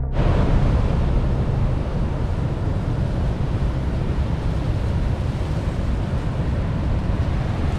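Strong wind buffets the microphone over rough, crashing ocean surf ahead of Hurricane Nicole, a loud and continuous roar with no break.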